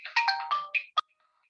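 A mobile phone ringtone plays close by, several bright melodic tones in quick succession for about a second, ending in a single short beep and then silence.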